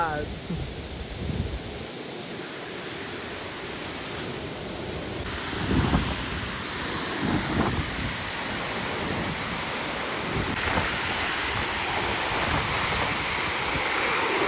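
Monsoon waterfall in the hills, a dense, steady roar of rushing water with wind buffeting the microphone, loud and continuous throughout.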